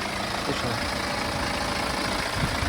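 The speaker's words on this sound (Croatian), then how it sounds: "Moram vam samo snimiti kako motor radi jer smo mijenjali." A moped engine idles steadily just after its chain and flywheel were replaced, a continuous low rumble held at an even level throughout.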